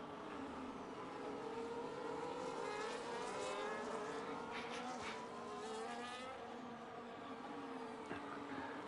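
Race cars run in a tight train at the Circuit of the Americas, a continuous engine drone with overlapping pitches that rise and fall as the cars pass, heard at a moderate distance.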